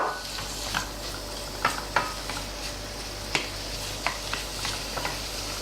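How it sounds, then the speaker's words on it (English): Pork lardons sizzle steadily in a hot pan, with intermittent sharp scrapes and clicks from stirring, close and continuous. "The sizzling of the pig,"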